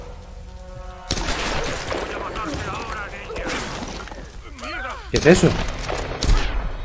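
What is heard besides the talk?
machine gun fire in the video game Tomb Raider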